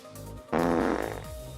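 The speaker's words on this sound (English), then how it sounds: "already people started farting here" One comic fart noise from Path of Exile play bursts out suddenly, loud and rasping, flutters for roughly half a second, then fades into quiet game ambience. No voices.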